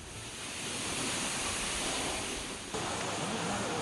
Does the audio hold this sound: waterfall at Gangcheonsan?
yes